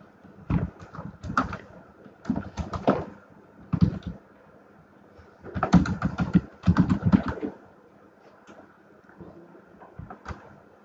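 Computer keyboard typing in bursts of rapid keystrokes, several clusters separated by short pauses, fairly close and clear with no talking, while HTML and CSS text is entered.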